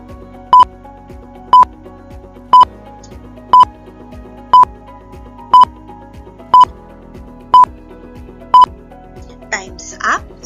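Ten evenly spaced electronic beeps tick off a ten-second countdown for a math quiz activity, each short and clear, ending in a brief different chime, with a steady low hum underneath.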